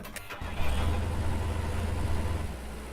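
Tractor engine starting in the farming video game Farmer's Dynasty, a short starter crank catching into a steady low diesel idle rumble that runs on alone.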